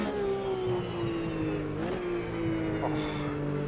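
A Porsche RSR's throaty engine is revved hard in the racing game Automobilista 2, a loud continuous drone that holds steady, dips briefly and climbs again, with a faint tire squeal near the end.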